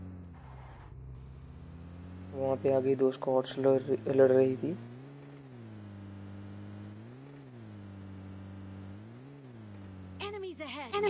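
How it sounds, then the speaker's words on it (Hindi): A car in the Crown League game drives uphill, its low engine hum holding steady and rising and falling in waves beneath continuous talking. "फिर हम वापस गाड़ी में बैठे और सीधे हिल पे गए"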